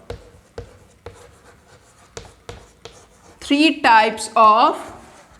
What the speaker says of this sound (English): I will write here three types of industries.